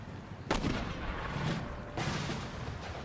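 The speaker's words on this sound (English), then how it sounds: "The main line is now firing upon the enemy." Cannon artillery fires during an Empire Total War video game battle, with two heavy booming volleys about a second and a half apart over continuous loud battlefield rumble.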